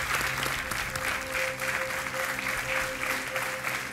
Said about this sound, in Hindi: तालियों के साथ इनका हम स्वागत करते हैं